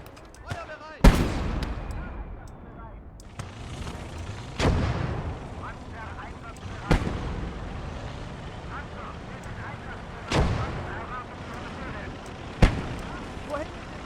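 Heavy artillery and gun fire in the Ostfront video game, six loud booming shots spaced a few seconds apart, each with a sharp crack and rumbling tail, under game voice lines and talk.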